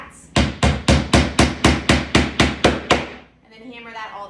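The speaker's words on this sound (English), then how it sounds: "then hammer that all the way down" A hammer drives nails into wooden slats for a handmade sign, delivering eleven sharp, evenly spaced blows at close range, followed by a brief spoken voice.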